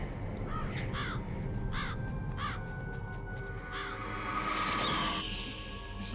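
Crows in the Metal Gear Solid video game give repeated harsh caws in quick groups over a dense, steady low rumble.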